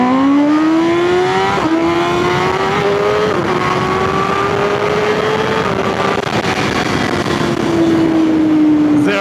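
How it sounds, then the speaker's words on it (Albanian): A BMW M1000R motorcycle fitted with a full Akrapovic exhaust launches hard under launch control. The engine note climbs loud and close through several rising pulls, with brief dips at each gear change. "Tani ideja e launch controlit është që e çojmë deri këtu kur fillon kap gazi dhe fillojmë lëshojmë friksionin."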